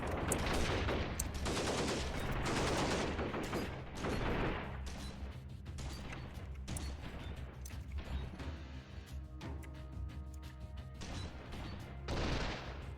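Video game gunfire with rifle, pistol and shotgun shots: rapid loud bursts, close and dense at first, then thinning into sparser cracks and mechanical clatter, with no talking.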